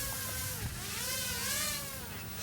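A Sandrock H818D quadcopter drone's motors whine and buzz as it lifts off in automatic takeoff, the pitch wavering and climbing over a steady, fairly loud hum, with wind starting to pick up.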